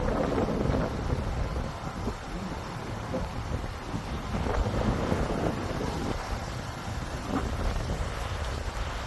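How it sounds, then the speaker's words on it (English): Strong wind blows outdoors on a windy day, roaring and buffeting the microphone in continuous gusts with no talk. "Nice windy day out today."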